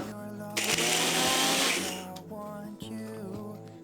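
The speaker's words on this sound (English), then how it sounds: "put the lid on, and grind it until it's resembling breadcrumbs" A blender roars loudly for about a second and a half, grinding food into breadcrumbs, then winds down; a voice speaks underneath and continues afterward.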